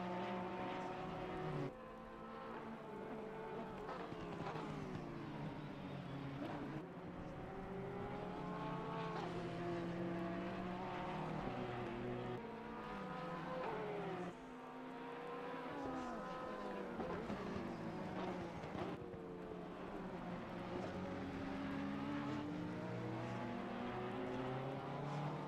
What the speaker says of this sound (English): you guys on YouTube and Twitch can hear the noises of the engines that the cars make on the simulation game